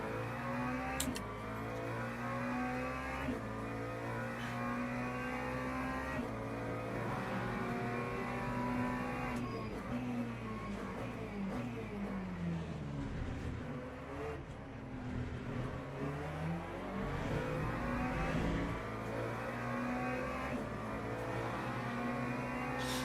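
Race car engine in Le Mans Ultimate, the sim racing game, with a hypercar on track; engine tones rise and fall through gear changes, and a passing car sweeps by near the middle, with no talking.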